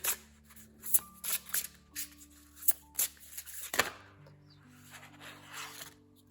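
Tarot cards shuffled and drawn by hand, with repeated crisp riffling and rubbing bursts of card stock, close and fairly loud, against a faint background tone.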